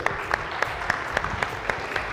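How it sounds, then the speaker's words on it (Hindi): A TV game show studio audience claps for Dua, a crowd's applause with a few sharp, regularly spaced loud claps standing out close to the microphone, and no one speaking. "दुआ के लिए तालियां बनती हैं भाई।"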